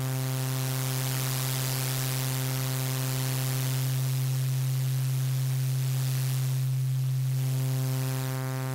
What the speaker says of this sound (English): So that's white noise added to the original phase distortion shape.